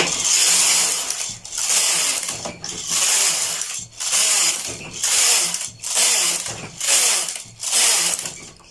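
A knitting machine carriage runs back and forth across the needle bed knitting plain rows, a loud mechanical ratcheting rasp in about seven sweeps with short pauses between passes.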